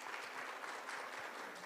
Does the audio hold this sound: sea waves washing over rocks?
no